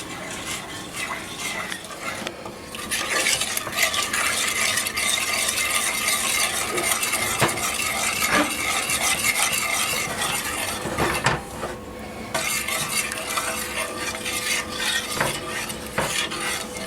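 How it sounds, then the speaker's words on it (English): Milk is stirred into a mac and cheese sauce in a pot, a steady scraping swirl of a utensil against the pan with a faint sizzle underneath, continuous and close for the whole stretch. "as we put our milk in, we're constantly stirring our sauce"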